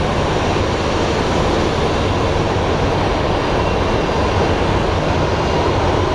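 An airliner at Sky Harbor International Airport gives off a continuous, loud broadband engine roar that holds steady throughout with no speech.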